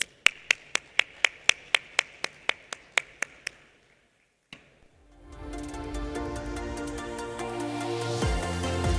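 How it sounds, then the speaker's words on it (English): A conference audience on a main stage gives a round of applause, heard as a rapid series of sharp, evenly spaced claps that stop abruptly, followed by music swelling in. "please do give Natalia a warm round of applause."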